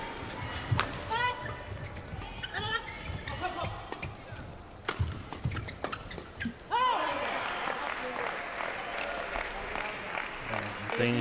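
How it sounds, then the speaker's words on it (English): Applause breaks out at an international badminton team match, Denmark against Indonesia at the Sudirman Cup, with scattered claps and sharp shuttle hits under commentary, then a fuller burst of crowd clapping near the end. "Danish coach is applauding."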